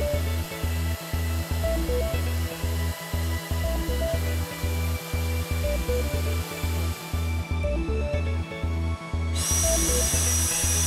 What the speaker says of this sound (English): A popping sound of the drum top can be heard as the air fills the top of the drum and pushes the liquid back through the standpipe and hose